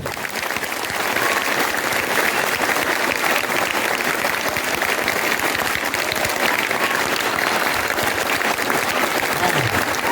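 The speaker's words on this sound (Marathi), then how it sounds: "टाळ्या जोरदार झाल्या पाहिजे" An audience at a children's literature conference breaks into loud, sustained applause after a short rise at the start, and the dense clapping continues evenly to the end.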